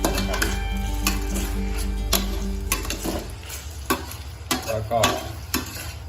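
Kale with crispy pork and oyster sauce is stirred in a wok, a spatula scraping and clacking repeatedly against the metal over a steady sizzle that fades into sharper, separate scrapes toward the end.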